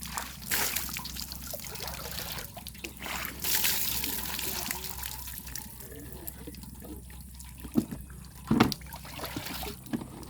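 Water is poured outdoors, trickling and splashing unevenly with a couple of louder gushes near the end, while faint voices are heard in the background.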